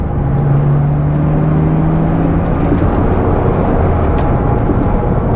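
A Porsche Boxster in worn condition revving hard under full acceleration, a loud, steady engine drone with a rising tone close to the microphone, continuous for several seconds.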